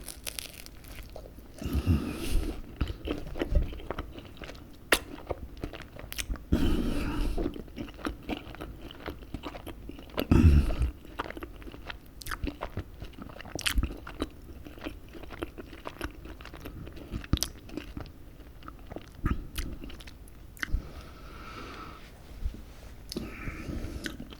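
Ham, mushroom and mascarpone pizza eaten close to the mic, with repeated bites, soft crunching of crust and wet chewing in an uneven rhythm, no talking.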